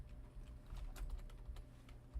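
Typing on a computer keyboard, a quiet run of quick irregular key clicks with a few sharper taps, close and faint, alone with no talk.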